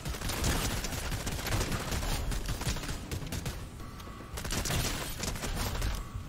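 Dense video-game gunfire crackles without a break, loud and close, with a brief dip in intensity before the rapid shots pick up again.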